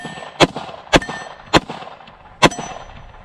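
Four sharp metallic clangs ring out as pistol rounds from a Glock clone strike an MGM steel gong target, spaced unevenly over a few seconds with brief ringing decay after each hit.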